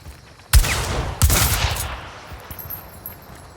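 Shooting video game gunfire: two loud, close blasts about a second apart, each trailing off into echoing rumble, followed by fainter scattered sounds.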